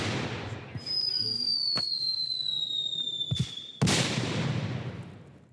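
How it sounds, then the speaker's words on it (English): Cannon fire and explosions on a Civil War battlefield, a loud sharp blast and a second big boom over a long whistling whine and steady crackling rumble. "those cannons are loud"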